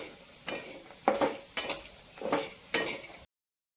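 A spoon stirs onion and peanut chutney in a pan, five distinct scraping strokes in a steady rhythm, close and moderately loud, followed by silence.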